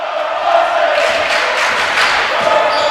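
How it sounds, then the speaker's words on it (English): A home crowd at a women's college basketball quarterfinal roars and cheers loudly and continuously, a dense wash of voices rising in bursts with no distinct talk. "The Red Devils crowd gonna let them hear it."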